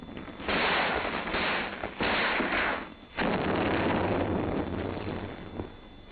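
Rifle squad gunfire in a defensive position, heard as dense bursts of crackling shots that swell and break off, with fire and smoke rolling continuously through the scene and a low rumble underneath.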